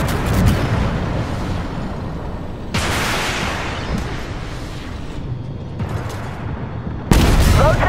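A tank cannon in a video game fires a sabot round, giving loud booming blasts that stand out from a steady rumbling battle background, with one sharp burst near the end.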